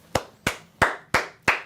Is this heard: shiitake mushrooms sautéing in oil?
no